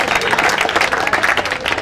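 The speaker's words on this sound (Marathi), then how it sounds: "जोरदार एकदा टाळ्या" Loud, steady applause from the audience at a Lions open cricket tournament prize distribution ceremony, a brief burst of dense clapping with no break.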